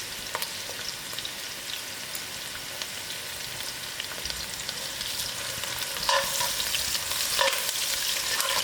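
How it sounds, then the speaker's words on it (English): Onions frying in oil for a vegetable biryani, giving a steady, dense sizzle and crackle that grows a little louder and busier toward the end, with no voices. "the onions to get fried out."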